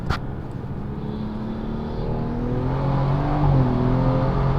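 A tuned turbocharged car pulling onto a highway, its engine note rising steadily as it accelerates, loud and close inside the cabin with a brief sharp transient at the start, no voices.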